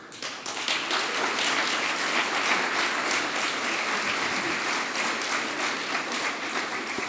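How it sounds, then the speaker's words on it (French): An audience at a closing cocktail of the Raid applauds with dense, sustained clapping that runs evenly throughout, close and unbroken. "J'aimerais qu'on les applaudisse"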